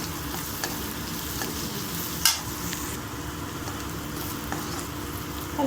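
Egg mixture with salt being stirred in a pan, a steady close scraping and swishing with a faint sizzle underneath, a few sharper knocks along the way, no voices.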